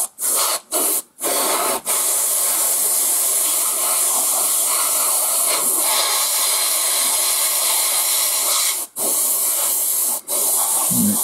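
An airbrush sprays AK Gen3 acrylic paint onto a model's hull sides, a steady close hiss broken by short stop-start bursts at the beginning and two brief pauses near the end, with no talking.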